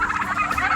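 A brief burst of turkey gobbling, warbling and fairly loud, heard alone without talk.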